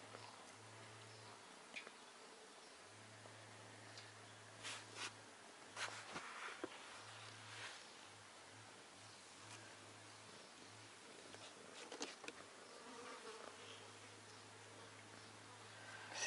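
Flies buzz on a hot summer day, a faint low hum that drops in and out in stretches of several seconds over quiet outdoor background, with no talk.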